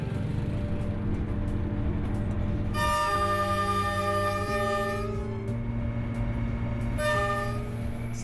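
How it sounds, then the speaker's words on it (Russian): Passenger train in Vietnam rolling along the tracks, with a constant heavy rumble overlaid by long, sustained tonal squeals and horn-like notes that shift pitch and repeat. "начинаешь прислушиваться к звукам поезда"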